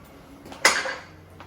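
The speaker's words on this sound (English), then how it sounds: "So just stir it all in" A spoon stirring fresh oregano, parsley, basil and thyme into pasta sauce in a pot gives a single short, close clank and scrape against the pot, then quiet.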